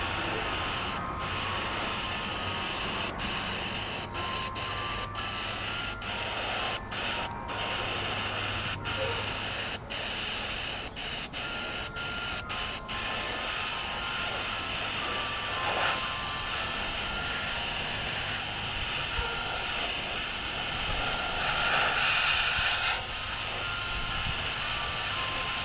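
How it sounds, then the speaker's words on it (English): An airbrush sprays paint onto a Yamaha RZ350 fuel tank with a continuous close hiss, briefly broken by short clicks and dropouts early on, then running steadily as the paint is faded in. "The airbrush will just get us a better, I hope, a better blend in the paint."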